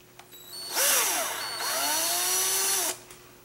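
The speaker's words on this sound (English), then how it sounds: "We're going to need to drill out the hole" A power drill whirs up close in two short bursts drilling out a hole in an RC bulldozer blade linkage, its motor pitch rising as it spins up and falling as it winds down.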